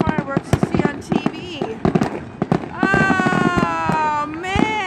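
Fireworks exploding in quick bursts of sharp pops and crackles, followed by long whistling tones, with excited voices talking and exclaiming throughout.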